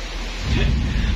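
Heavy rain pours down in a dense, steady roar with a low rumble beneath, loud and continuous.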